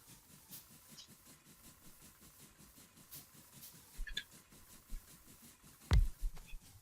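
Steam engines and boilers running in the factory game Factorio, a quiet, steady mechanical chugging with a regular pulsing rhythm, punctuated by a few louder clunks near the end.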